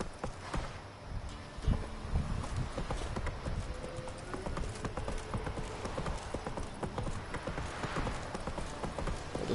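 Horse hooves clip-clop steadily in The Witcher 3, a continuous brisk rhythm of hoofbeats on the ground with faint rustling and wind ambience around them.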